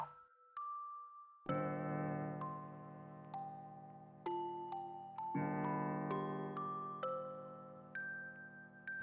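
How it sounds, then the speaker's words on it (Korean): Bells ring out in a sequence of clear, resonant chimes at varying pitches, each tone ringing and fading before the next strike. "아침을 알리는 종소리에 눈을 뜨자"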